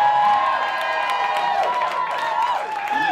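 Comedy club crowd cheering and clapping for comedian Adam Cayton-Holland, a steady wash of applause with shouts and whoops throughout, fairly loud and close.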